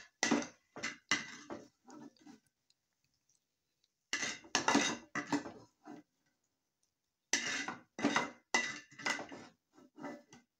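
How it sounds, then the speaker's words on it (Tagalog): Eggs and coriander leaves mixed in a bowl: clattering and clinking bursts of a utensil against the bowl in quick runs, separated by short silent pauses, close and fairly clear. "mix eggs with coriander leaves"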